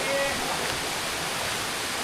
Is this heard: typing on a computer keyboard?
no